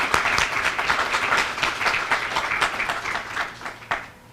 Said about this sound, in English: please give her one more round of applause, Miss Amy Camp, for a fantastic presentation.